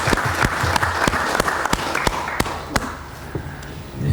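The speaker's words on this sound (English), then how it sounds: "Please give him a big round of applause." A smaller audience at an okra research conference gives a round of applause, with sparse, sharp individual claps standing out over a thinner bed of clapping that fades toward the end.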